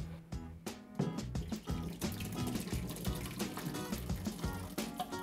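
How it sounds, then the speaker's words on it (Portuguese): Water being drained from hominy (canjica) cooked with cloves and cinnamon in a pressure cooker, a busy splashing, gurgling pour with clattering knocks, close and steady for several seconds. "nós vamos tirar a água"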